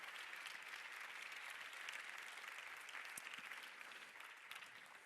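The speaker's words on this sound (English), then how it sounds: "give them a big round of applause" Steady, continuous applause from an audience at the LUX Audience Award ceremony, fairly distant and even throughout with no speech.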